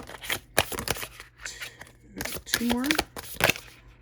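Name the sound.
tarot cards being drawn and shuffled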